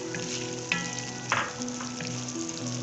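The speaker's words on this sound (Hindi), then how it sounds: "और 2 अदद मीडियम साइज की कटी हुई शिमला मिर्च भी, और इनको अच्छे से फ्राई करेंगे" Chopped onions and capsicum fry in a pan with a soft, steady sizzle and crackle, punctuated by a couple of sharp clinks of a utensil against the pan.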